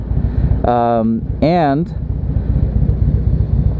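Strong wind buffeting a microphone on a motorcycle ride toward the mountain foothills, a steady low roar throughout, with someone briefly speaking over it.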